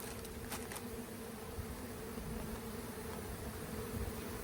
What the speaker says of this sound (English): Get all the bees off of that, get it out of the equation, and they'll all get in this box